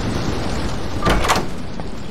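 A door opens in a video game with a brief broadband creak and rush midway through, set against a constant loud ambient hum.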